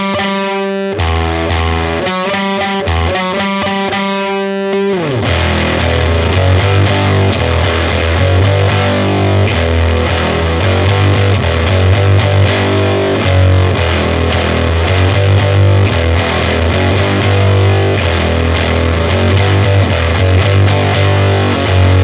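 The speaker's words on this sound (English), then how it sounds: "I'll switch on the Elektron Analog Drive on the Harmonic Fuzz preset" A Fender Vintera Telecaster through an Elektron Analog Drive on its Harmonic Fuzz preset, opening with choppy staccato fuzz chords and then settling into thick, sustained distorted playing that stays loud throughout.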